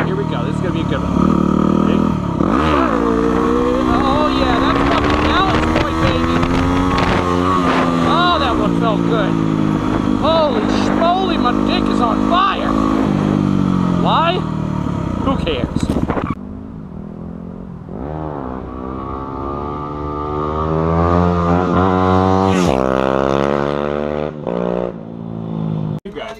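A motorcycle ridden hard while hooning and pulling wheelies with a group, its engine roaring and revving loudly and close throughout, easing somewhat in the second half, with people talking over it.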